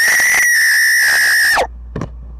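A loud, sustained scream from a meme sound-effect app holds steady for about one and a half seconds, then drops sharply in pitch and cuts off, leaving a faint thump and low hum.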